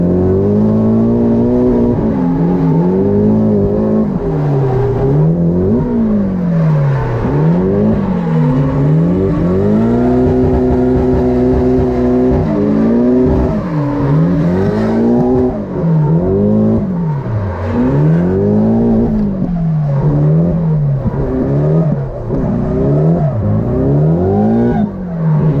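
Several cars drift in tandem at Ebisu circuit in Japan, engines revving and bouncing off the limiter with loud, continuous rising and falling howls as they slide through corners, with no voices over the roar.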